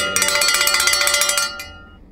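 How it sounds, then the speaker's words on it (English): Cowbell ringing inside a video game, a fast run of bright metallic clanks for about a second and a half, loud and close, then one last strike fading out. "Why are you ringing your cowbell when I die?"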